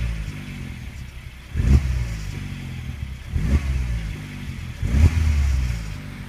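Peugeot 308 GTI three-door engine at operating temperature, blipped in three sharp revs over a steady idle, each burst rising and falling quickly, heard close with no talking.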